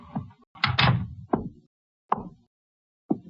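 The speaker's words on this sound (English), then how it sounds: "Shut the door." In an old radio drama, a door is shut with a few close, solid knocks and thuds spaced unevenly across a few seconds, set against quiet pauses.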